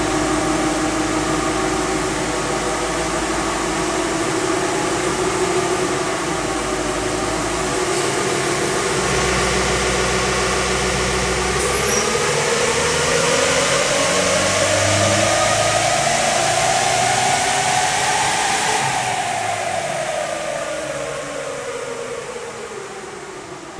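A Nissan NP300 Navara engine on a dyno run drones loudly and continuously, its pitch climbing steadily as it pulls through the revs before easing off toward the end, close and alone without talking.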